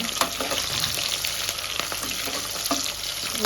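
Onions fry in a pan on a stove for a mushroom masala pulao, a close, steady sizzle with bursts of crackle and stirring scrapes, and no one speaking.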